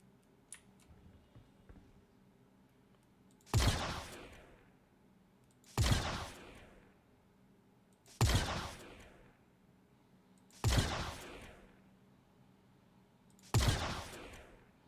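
Five sharp gunshots ring out in Star Citizen on Daymar, spaced roughly two seconds apart, each a loud crack with a short decaying tail over quiet ambient background.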